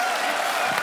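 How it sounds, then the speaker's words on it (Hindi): Studio audience applause on a Hindi comedy talk show, a brief burst of dense, steady clapping. "ठोको ताली।"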